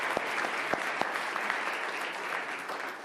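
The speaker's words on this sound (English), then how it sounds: "let's give these young men another big round of applause" A crowd at a city commission meeting applauds a group of young men, steady dense clapping throughout with a few sharper individual claps standing out close by.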